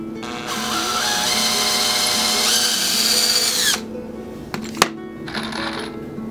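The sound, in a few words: power drill drilling pilot hole in lumber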